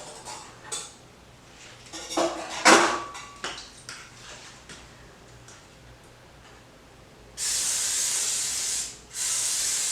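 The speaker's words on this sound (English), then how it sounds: "I'm going to spray it." Two bursts of cooking oil spray hissing into an air fryer near the end, the first longer and the second following after a brief pause, preceded by light clinks and handling noises.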